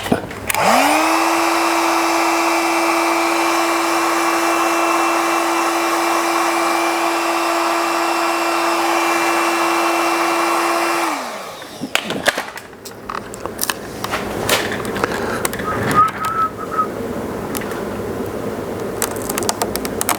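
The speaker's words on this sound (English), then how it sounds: "you could always use a hairdryer or anything like that has a bit of heat" Steady, loud hair dryer blowing for about eleven seconds while heating adhesive on a motorcycle rear light strip for a Honda Goldwing GL1800, then switching off and winding down, followed by handling clicks and rustling.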